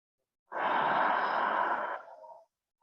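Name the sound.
deep breathing during a yin yoga exercise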